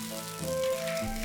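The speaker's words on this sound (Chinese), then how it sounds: "小龍蝦入鍋油炸" Crayfish being deep-fried in hot oil give a brief, close hiss of sizzling that swells and fades, with a faint tonal hum in the background.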